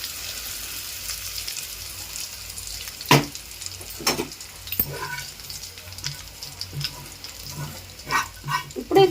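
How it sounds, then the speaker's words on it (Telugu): Hot tempering poured into gongura pickle, a soft continuous sizzle and bubbling hiss close by, with a few sharp clinks and pops scattered through it. "తాలింపు అయితే వేసేస్తున్నానండి పచ్చడిలో"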